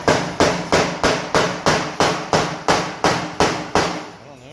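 A hammer drives a hose barb into an LS water pump neck with eleven loud, evenly spaced metallic strikes about two per second, each ringing briefly before the next.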